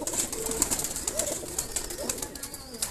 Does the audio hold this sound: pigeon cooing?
yes